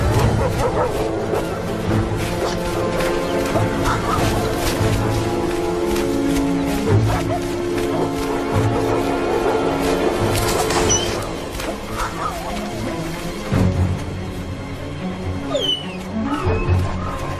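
A pack of wolves attacks and kills an alpha male wolf, with snarling, yelping barks and whimpering cries tumbling over one another close by, loud and chaotic, easing slightly partway through.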